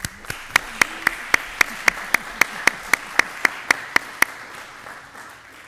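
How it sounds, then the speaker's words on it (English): Sparse, evenly paced claps, about four a second, ring out crisply at a school board of education meeting, then stop, leaving a quiet room behind them. "join me in a round of applause for our"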